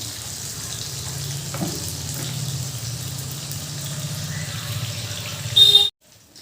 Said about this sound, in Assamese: কমপ্লিট মাছখিনি ভাজি ল'ম।